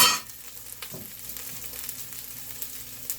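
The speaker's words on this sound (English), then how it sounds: "And give that a stir. Don't want it to burn." Rice frying in a pan is stirred, giving a soft, steady sizzle with a few light scraping strokes, quiet and with no one talking.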